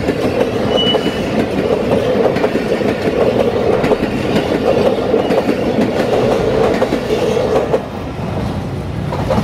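The Pakistan Railways Khyber Mail rolls past near Okara, a loud sustained rumble with rhythmic clickety-clack of wheels over rail joints that eases slightly near the end.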